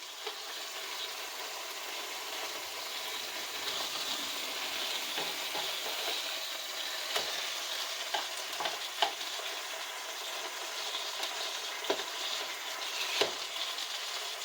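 Hamburger patties sizzle steadily in a frying pan, a continuous soft crackle with occasional louder pops and clicks of a utensil, no voices.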